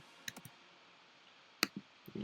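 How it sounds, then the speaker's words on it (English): A gate effect chopping a sound in a future bass track into a few short stuttering bursts, sparse, clicky fragments separated by near silence, ending in a rising sustained chunk. "It gives kind of this stuttering effect"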